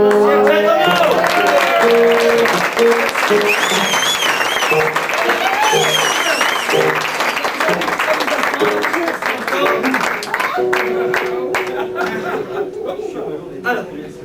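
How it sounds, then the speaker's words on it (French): Loud audience applause at a French café-théâtre comedy evening in a ski resort club, mixed with laughter, cheering and chatter, with music playing underneath and the clapping thinning toward the end. "s'il vous plaît, applaudissez le responsable des dénonciers"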